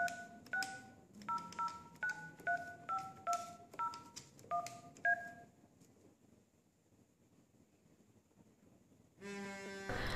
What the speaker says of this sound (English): Dial a mobile number.